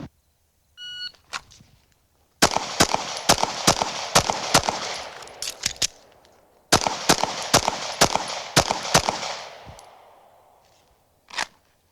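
Handgun shots crack out in two rapid strings during an El Presidente shooting drill on a range, sharp and loud with short gaps between shots. A lone shot follows at the end, and faint electronic beeps come before the first string.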